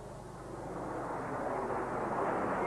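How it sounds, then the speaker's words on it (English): Harrier jet passing overhead as a fast jet, a broad, steady roar that slowly swells louder over a few seconds, distant at first and drawing nearer, with no voices. "this, of course, is Harrier performing as a fast jet"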